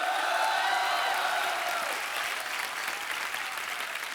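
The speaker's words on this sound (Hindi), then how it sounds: "हौसला अफजाई के लिए ठोको ठोको। तालियां।" Studio audience applause on a comedy show, a dense steady wash of clapping that holds loud and even from start to finish with no voices breaking through.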